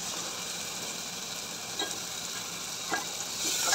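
Masala with tomato puree simmers in oil in a pan with a soft, steady sizzle, interrupted by a couple of brief spoon scrapes near the end.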